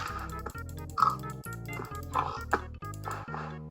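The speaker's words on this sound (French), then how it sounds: "je vais essayer de taper le cochon pour voir" A pig is hit in Minecraft on an old PowerBook G4, giving short squealing oinks over a choppy, stuttering buzz that repeats in even bursts, with nobody talking.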